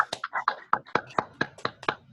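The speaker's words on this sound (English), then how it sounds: "let's give you a round of applause." Online workshop participants clap at the end of a mini-workshop session, a sparse run of about ten separate claps in an uneven rhythm, close and fairly quiet, with no talking over them.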